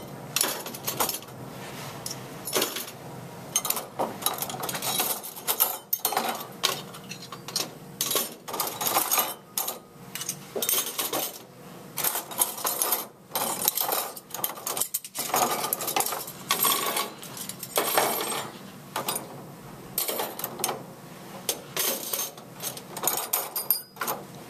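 Metal spoons clinking and rattling as they are dropped into a silverware container for washing, a steady run of bright, close jangles and taps with no talk.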